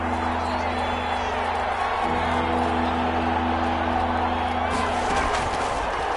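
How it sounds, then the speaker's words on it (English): A steady stadium crowd roar fills a PS4 American football game featuring Mahomes and Hill, swelling slightly near the end, with play-by-play commentary running over it. "The crowd getting into it as we come up on a big third down."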